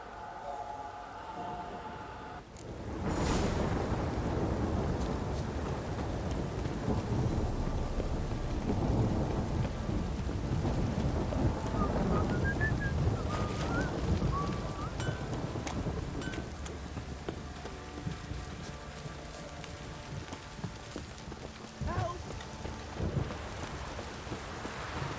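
Rain pours steadily in a thunderstorm in the video game The Witcher 3, with a heavy rumble of thunder after a sudden loud onset and an unbroken hiss of rainfall on surfaces continuing to the end.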